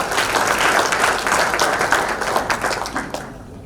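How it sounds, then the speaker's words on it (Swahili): An audience at an investors' gathering on the energy and technology sectors claps for the President, a steady wash of many hands that holds evenly, then thins and fades toward the end. "Tupigie makofi Mheshimiwa Rais"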